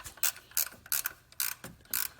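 A tensioner pulley on a 2010 Grand Caravan 4.0 litre engine is spun by hand. It gives off repeated, close, scratchy clicking and whirring bursts in an uneven rhythm, about five pulses in quick succession.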